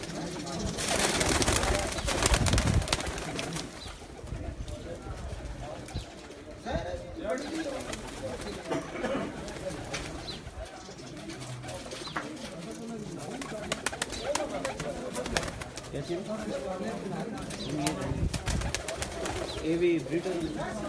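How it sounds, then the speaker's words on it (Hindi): Pigeons coo softly amid a busy, noisy background, with people talking over much of it. "ब्रीडर कबूतर हैं जनाब।"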